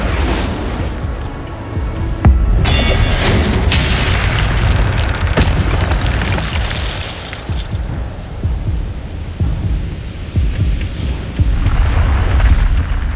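Fire spell Incendio cast in Hogwarts Legacy: a loud booming burst of flame with explosive whooshes and roaring crackle, sustained and dense throughout, with further blasts mid-way and near the end.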